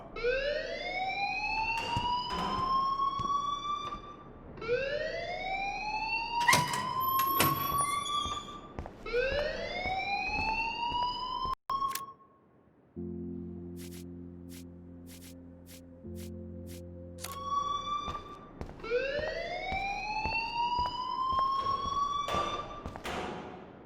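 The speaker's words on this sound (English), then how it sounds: "please turn off that alarm since that's your job" A fire alarm in the video game Life Is Strange wails in repeated rising sweeps, pauses for a few seconds of steady lower buzzing tones, then resumes its loud cycling whoops.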